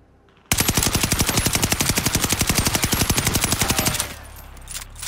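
Rapid automatic gunfire from a weapon fired while crouched in Warzone: a loud, even, fast stream of shots lasting about three and a half seconds, then an abrupt stop.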